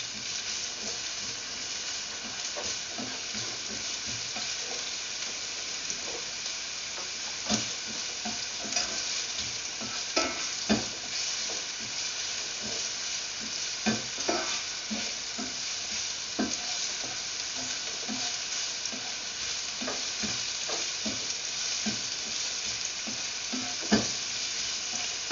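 Ginger is stirred into frying tilapia for escabeche, a sweet and sour fried fish dish, with a steady close sizzle and scattered scraping knocks from the spoon against the pan throughout, and no voices.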